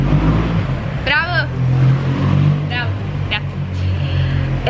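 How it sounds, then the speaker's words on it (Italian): A car engine revving and passing close by, a loud steady rumble with a few whining bursts, under people talking. "Motore."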